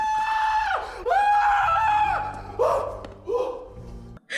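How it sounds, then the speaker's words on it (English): A woman's high, sustained scream from a horror film, played back loud and alone in several drawn-out wails with brief breaks between them. "The famous scream."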